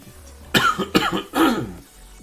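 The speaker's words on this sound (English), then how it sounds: "this cough like came back" A man with a lingering cough lets out three harsh, close coughs in quick succession, the last one longer and rougher, with no talk around them.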